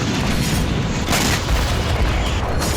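Russian air force bombing in the Kursk region: a dense, loud, sustained rumble of explosions with repeated deep booms rolling over one another, no voices.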